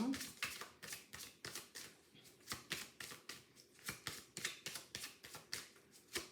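Tarot cards are shuffled by hand at close range, a quiet run of rapid riffling bursts repeating at an even rhythm, with no talk over them.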